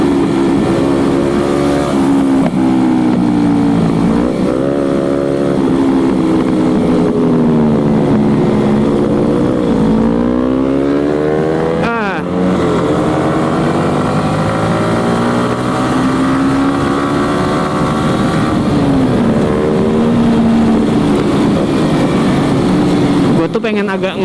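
Yamaha R15 motorcycle ridden at speed, a loud continuous engine drone rising and falling through the gears with heavy wind buffeting throughout.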